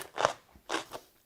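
Crunchy whole dongchimi radish kimchi bitten close up, two loud crisp crunches about half a second apart followed by a softer third bite, no talking.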